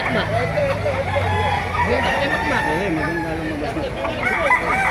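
Roosters crowing over and over at a chicken market in Baliuag, Bulacan, loud and close, with clucking fowl and a busy crowd of people talking throughout.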